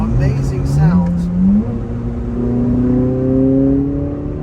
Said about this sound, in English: this car, the C8 Z06, with this engine, the LT6, you know, flat plane crank, high revving, naturally aspirated, open up the exhaust a little bit